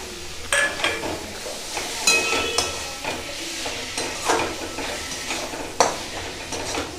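Chopped medium tomatoes go into a frying pan of onions for a prawn piyaji, bringing a steady sizzle under repeated sharp clinks and scrapes of a spoon stirring against the pan.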